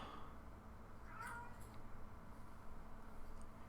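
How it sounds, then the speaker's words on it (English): A cartoon cat meows in the card game MTG Arena, one short, clear meow over quiet game background sounds. "Here comes the cat."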